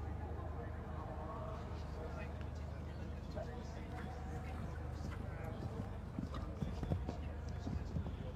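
Horse hooves thudding on an arena surface during a show jumping round at an eventing competition, a rhythmic stride heard under constant steady crowd and broadcast ambience, with talk over it.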